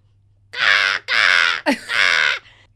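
A human voice imitates a crow cawing: three loud, harsh, drawn-out caws in quick succession, close and clear, with a brief break between the second and third.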